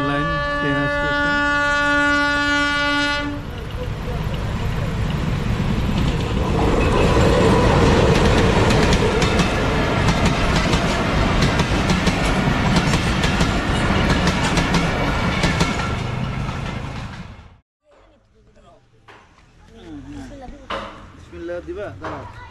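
A train rumbles loudly past a railway station on the route between Dhaka and Faridpur, with a horn blast at the start, then a long, steady clatter that cuts off abruptly, leaving quieter ambient sounds with faint voices.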